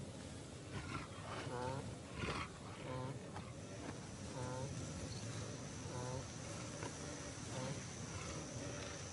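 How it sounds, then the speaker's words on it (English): A wild lion gives deep, rumbling roars from a thicket in an African documentary setting, repeating in low pulses over faint insect chirring and under spoken narration. "A lion, alerted by the noises, emerges from a thicket."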